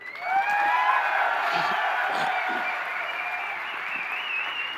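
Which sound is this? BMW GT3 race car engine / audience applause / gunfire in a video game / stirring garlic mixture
audience applause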